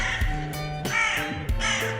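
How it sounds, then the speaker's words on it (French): A large crow caws loudly and close by, three harsh, ringing calls in quick succession. "Putain de corbeau, il est énorme."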